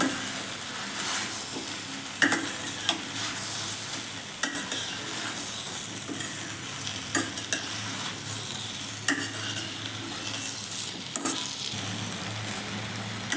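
Brinjal and tomato chutney with tamarind cooks in a pan with a continuous soft sizzle, while a spatula stirs and scrapes with regular sharp knocks and clinks against the metal; no talking.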